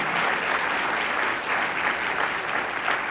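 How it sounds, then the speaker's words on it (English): An audience at a memorial service for healing and hope gives a brief, steady round of applause, a dense wash of clapping heard on its own at moderate level. "So let's give a round of applause to our Attorney General, Tish James."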